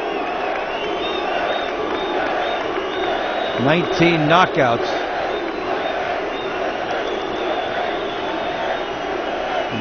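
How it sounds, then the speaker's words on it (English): A boxing arena crowd roars and chants a fighter's name in a steady, dense wall of voices, while a commentator talks briefly over it near the middle. "The crowd chanting his name like it's a concert."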